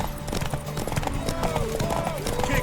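Hooves of a galloping horse in The Witcher 3 during Ciri's race, a steady close clatter of beats running throughout, partly under shouting voices and a faint whinny.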